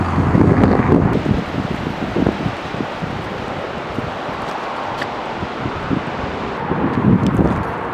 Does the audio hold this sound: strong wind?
yes